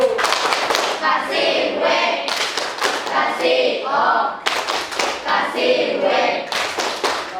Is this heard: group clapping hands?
yes